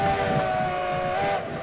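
A steam locomotive's whistle blows in one long sustained chord, loud and close, tapering slightly near the end, while a train brakes behind a stopped train.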